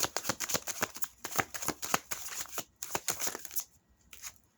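Tarot cards being shuffled in quick riffling bursts, crisp flutters and snaps repeating close up, with brief pauses near the end.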